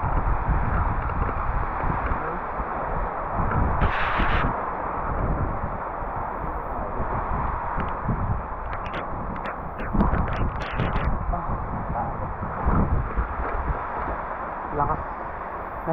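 Strong typhoon wind buffets the microphone in a continuous, rough rumble that rises and falls in gusts, with a person talking over it.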